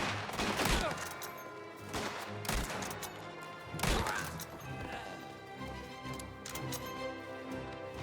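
Repeated gunfire bursts in a shootout from the video game Mafia: The Old Country, sharp loud shots at irregular intervals over a busy, cluttered background of crashes and impacts.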